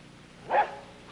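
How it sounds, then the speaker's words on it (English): A single dog bark from somewhere off-scene in a domestic sitcom setting, one short mid-pitched burst rising out of quiet room tone, fairly distant and moderately loud. "Whose dog is that?"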